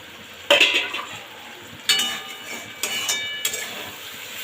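Raw hilsa fish pieces laid into a pan of spiced onion masala for dopiaza, making a few sharp clattering contacts followed by a soft sizzle, close and distinct with no voices.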